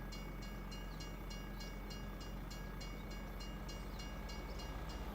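A train rolls along in the Farming Simulator 25 farming game, a steady low rumble with a regular rhythmic clatter of wheels on rails, even and unbroken, with no voices.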